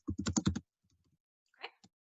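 Quick burst of typing on a computer keyboard, several close, crisp key clicks in a row, then a few fainter taps after a pause, with no talk.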